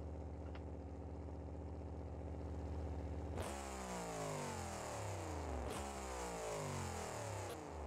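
Loud unmuffled Magnaflow exhausts on a monster truck in BeamNG Drive, with tunable headers, rumbling at a steady idle and then revving hard twice, each throttle blip rising in pitch and falling back, close and continuous.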